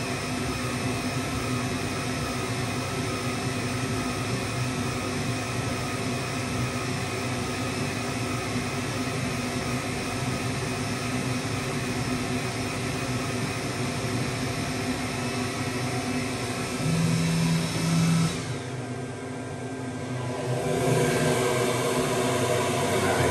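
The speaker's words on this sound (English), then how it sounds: "so it's still running that fan to suck some of that smoke out." The exhaust fan of an xTool S1 diode laser engraver whooshes steadily with a broad airy hiss and hum, unbroken for most of the time, briefly dipping and changing tone near the end.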